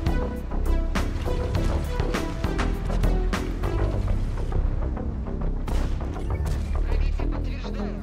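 T-54 tank cannon shots in a tank video game, with repeated heavy booms and blasts layered over continuous loud game music and battle noise.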